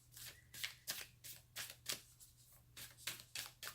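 Rhythmic riffling of tarot cards being shuffled, about a dozen quick papery bursts in a steady pattern, close and fairly quiet with no voices.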